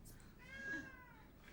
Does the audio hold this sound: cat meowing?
yes